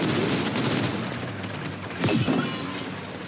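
Sustained bursts of gunfire in the video game Snowbreak: Containment Zone, rapid and loud throughout, with a sharper surge of shots about two-thirds of the way through.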